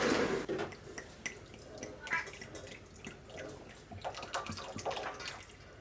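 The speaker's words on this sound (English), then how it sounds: "trying to squeeze it through a dish towel" Rhubarb pulp is squeezed through a dish towel, giving a wet, dripping, trickling sound of juice running out. The liquid noise is close and continuous, with faint voices murmuring underneath.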